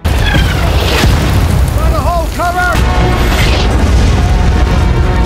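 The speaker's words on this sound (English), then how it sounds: "As the military camp was on the verge of being obliterated by artillery fire, Nina was caught in the explosion." Loud booming artillery explosions from a World War II battle as a German tank attacks a military camp, a heavy sustained rumble with blasts over a narrating voice.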